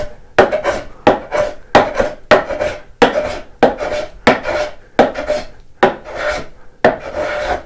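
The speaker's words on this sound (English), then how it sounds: "This plane is a little bit steeper of a set than I normally would for final smoothing" Hand plane smoothing the wood of a flower planter: about eleven rhythmic rasping strokes, each a short swishing shave followed by a brief pause, close and clear with no talk.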